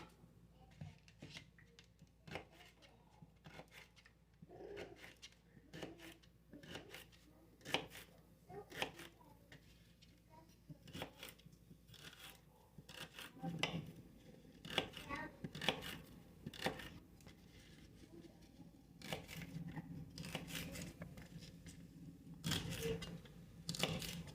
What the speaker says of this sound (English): I'm going to go ahead and cut up this celery